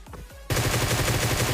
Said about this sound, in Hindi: बंदा मेरे को दिखता, मैं फायरिंग देता हूँ